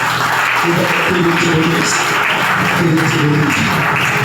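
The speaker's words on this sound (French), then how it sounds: "Il mérite encore une forte acclamation." Church congregation at a worship service applauding and cheering, a loud, steady roar of clapping mixed with voices and cheers, dense and continuous throughout.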